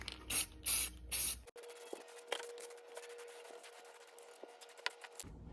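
Spray can paint applied to windshield wiper arms for a second coat: three loud hissing bursts in quick succession, then quiet with faint clicks and a low steady background hum.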